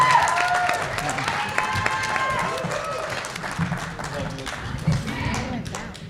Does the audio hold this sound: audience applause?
yes